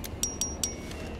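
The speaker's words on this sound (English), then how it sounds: "Pretty sure that noise is the hula doll." Short glassy clinks and chimes from a hula doll item in the video game Fallout: New Vegas, several quick light taps over a low background hum.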